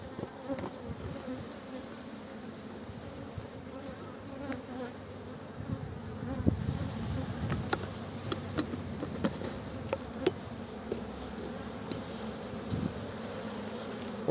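Honeybees buzzing at an open hive during an inspection in Muğla, a soft continuous drone with occasional louder passes from bees flying close.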